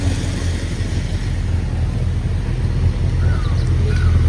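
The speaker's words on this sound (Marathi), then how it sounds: "अजून एक लॅम्बो आली गाईस" A Lamborghini pulls up on a Mumbai street among other exotic cars, its engine a low, steady rumble close by with faint traffic around it.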